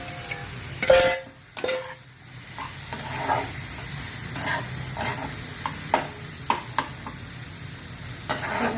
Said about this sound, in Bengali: এই যে পটল আলু ভেজে রেখেছিলাম ওটা দিয়ে দিলাম।